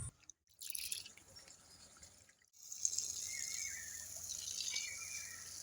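Soaked rice is rinsed in water for dosa batter, giving quiet sloshing and dripping that stops briefly twice before a longer stretch of soft splashing and trickling, close and without voices.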